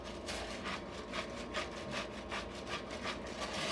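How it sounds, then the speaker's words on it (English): Fresh cracked pepper is ground onto filet mignon, a close rhythmic gritty rasp repeating in quick, even strokes with no talk over it. "I'm going to put some nice fresh cracked pepper, both sides."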